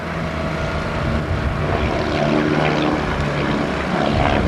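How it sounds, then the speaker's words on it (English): Propeller aerobatic airplane performing a snap roll from inverted flight at the 1986 Daytona Beach airshow, its engine droning steadily and loudly throughout with a broad wash of outdoor noise. "he combines two maneuvers into one, doing a snap roll from the inverted flight position"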